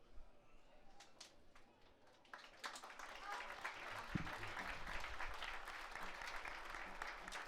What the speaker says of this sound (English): He gets a nice, polite applause from the Stockade FC fans here.